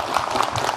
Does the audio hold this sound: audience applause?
yes